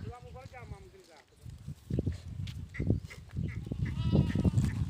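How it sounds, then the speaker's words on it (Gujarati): A goat bleats a few times early on, its wavering cry followed by people talking and rustling nearby. "આ જો છે અમારો બકરા"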